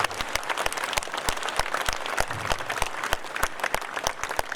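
A standing crowd at a Bharatiya Janata Party political rally in Hisar claps steadily and loudly. The applause is dense and continuous, with sharp claps standing out from the wash.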